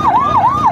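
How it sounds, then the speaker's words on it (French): An ambulance siren wails close and loud, its pitch rising and falling in a quick repeating cycle. "Ambulance, c'est là."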